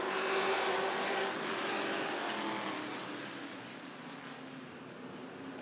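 Race cars accelerate together at the green flag of a 50-lap Sportsman feature at Rockford Speedway, a broad, loud engine roar that fades slightly as the field passes.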